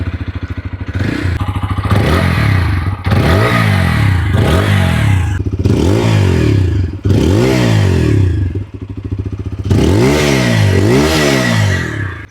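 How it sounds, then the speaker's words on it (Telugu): A 2025 TVS Apache RTR 160 4V TFT Special Edition motorcycle revs close by in about six sharp bursts, each rising and falling. The revs are spaced between a steady, loud idle with some exhaust crackle, and no one talks. "exhaust note and engine note ఎలా ఉంది"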